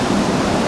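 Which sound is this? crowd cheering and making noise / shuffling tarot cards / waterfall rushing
waterfall rushing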